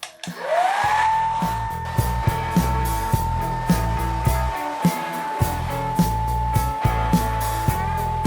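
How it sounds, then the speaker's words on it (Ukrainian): A household hair dryer heating Bison sealing tape on a bath whirs up and runs steadily with a high whine, close and loud, while light tapping and handling noises come and go underneath. "Настав час прогріти наші стрічки е, за допомогою ось такого побутового фену"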